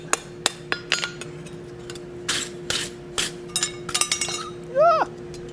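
Hand-forged metal oak leaf curtain tie backs take a series of sharp hammer taps and clinks, then a ringing clatter as a piece drops, all close and over a faint workshop hum.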